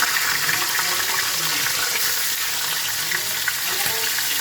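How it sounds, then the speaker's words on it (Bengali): Katla fish head frying in hot mustard oil in a kadai, a loud, dense, unbroken hiss of sizzling oil close by. "আমি কাতলা মাছের মাথাটাকে ভেজে নেবো।"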